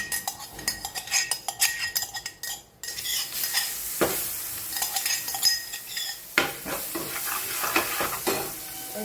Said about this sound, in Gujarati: સરસ મિક્સ કરીએ